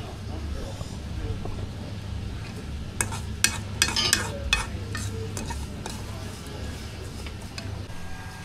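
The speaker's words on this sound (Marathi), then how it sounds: "शेवया, किशमिश आणि हे जे सीड्स आहेत ते सगळे भाजून घेतोय मी" Vermicelli, raisins and seeds roasting in a pan on the stove, a soft steady sizzle with brief scraping and stirring clatters in the middle.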